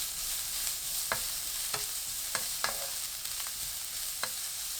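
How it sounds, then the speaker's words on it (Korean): Beets stir-fried in cooking oil over high heat in a pan, a soft steady sizzle punctuated by several sharp clicks of a spatula scraping and tossing, fairly quiet with no voices. "팬에 식용유 3큰술, 비트 넣고 센 불로 1분 볶습니다."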